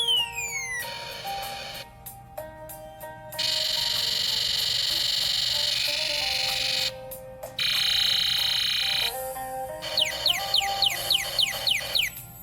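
Alarm tones from a Snap Circuits speaker kit: bursts of sustained buzzy electronic siren tone, separated by short gaps, then a run of rapid rising chirp sweeps toward the end, loud and alone with no talk.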